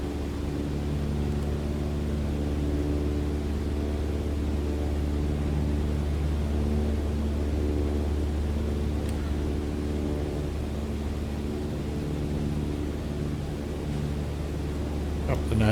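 Propeller aircraft engine drone in Microsoft Flight Simulator 2020 during a training flight cruise at about 2,300 RPM, a steady, even hum that holds for the whole stretch, with no other sounds over it.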